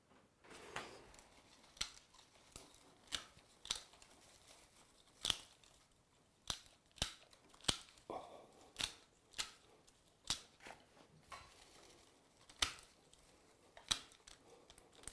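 Sharp, crisp snips of shears trimming heather for a lobster pot, close and isolated, repeating irregularly every second or so with faint rustling between cuts.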